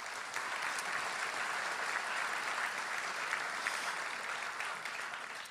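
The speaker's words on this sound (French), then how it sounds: "S'il vous plaît, leur donner une main d'applaudissement." A graduation ceremony audience at Université de Moncton claps in a steady, even burst of applause for several seconds, moderately distant and without speech over it.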